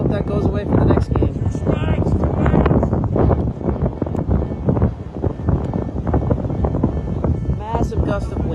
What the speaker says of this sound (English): Massive gust of wind.